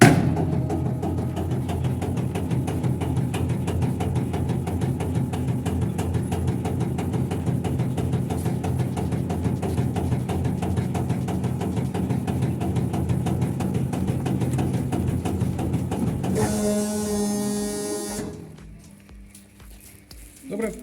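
An STvega H550 industrial meat dicer runs steadily while cutting lard into cubes, a loud continuous mechanical hum with rhythmic churning that stops abruptly near the end, followed by quiet clicks.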